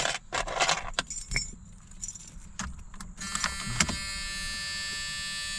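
Keys jangle in the ignition of a 1986 Ford Mustang SVO in a few quick metallic bursts, followed by a steady electrical hum and whine from the car.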